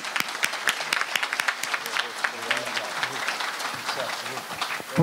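Audience applause at a symposium opening and awards ceremony, dense clapping from a seated crowd filling the room steadily for about five seconds, with some chatter mixed in.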